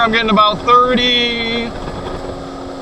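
A 2026 Sea-Doo personal watercraft engine runs at full throttle in eco mode on a lake, a steady loud drone with wind rush, while someone talks over it.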